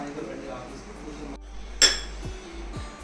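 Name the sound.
mutton being added into a clay pot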